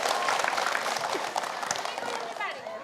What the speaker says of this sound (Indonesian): Boleh deh tepuk tangan semuanya,